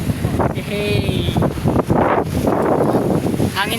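Strong wind roars and buffets the microphone throughout, with a voice speaking briefly beneath the gusts.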